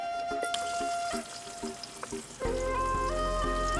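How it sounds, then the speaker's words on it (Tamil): Onion frying in hot oil in a clay pot during village cooking, a sizzle with rhythmic knocks and taps, joined midway by a louder, denser frying burst. "இப்போ சட்டி நல்லா சூடாயிட்டு முதல்ல நம்ம எண்ணெய் கொஞ்சம் விடுவோம் சரி இப்போ நம்ம முதலாக வந்து வெங்காயத்தை போடுவோம்"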